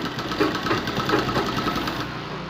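A sewing machine stitches a blouse piece with a steady, close, humming mechanical whir and a faint rapid needle rhythm, continuous and fairly loud, with no voices.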